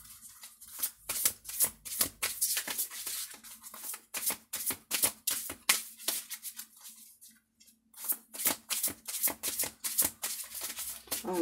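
Oracle cards are shuffled by hand in repeated bursts of crisp, papery riffling and flicking, with a brief pause midway before the shuffling resumes, close and fairly quiet.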